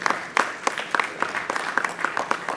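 A room of guests at a Marine Corps ball applauds, with crisp individual claps standing out from the crowd in an uneven, lively patter that lasts only a few seconds.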